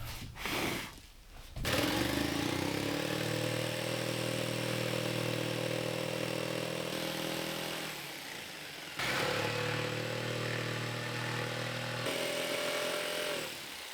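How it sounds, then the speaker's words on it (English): A jigsaw cutting out maple plywood, a buzzing reciprocating drone starting after a brief pause, running steadily, briefly dropping off around the middle, then resuming, close and loud with no talk. "the purpose of those holes is to allow my jigsaw to fit in there to cut this out"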